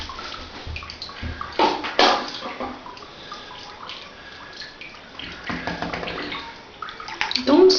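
Water sloshes and splashes in a bath while a kitten is being bathed, with irregular splashes and drips, some louder bursts, and low voices occasionally under it.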